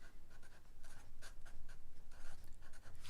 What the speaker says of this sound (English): let's try to write this one on the paper